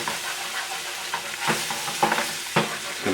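Flour is stirred into a paste in a hot pan while cooking coconut curry beef ribs, with repeated scraping strokes and a light sizzle in an irregular rhythm, close up and with no talking.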